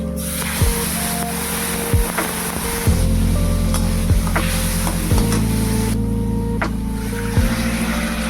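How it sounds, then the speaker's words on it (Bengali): Cumin, bay leaf and dried chilli crackle and sizzle in hot oil as a tempering. The close, continuous hiss sits over a low steady hum with occasional clicks. "এই যে ফোড়নে দিলাম জিরে, তেজপাতা, শুকনো লঙ্কা আর দেবো জিরে গুঁড়ো।"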